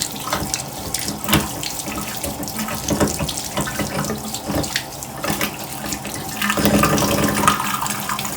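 Tap water runs steadily into a sink and drains freely down a just-unclogged drain, a close, continuous splashing gurgle that swells slightly toward the end.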